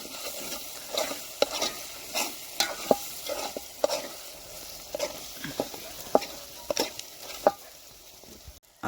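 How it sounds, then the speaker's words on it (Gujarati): Chili powder is stirred into a prawn masala in a frying pan, with repeated scraping spoon strokes in an irregular rhythm over a soft background sizzle, close and moderately loud, without talk. "આપણે આ મરચું કરી દઈશું મિક્સ."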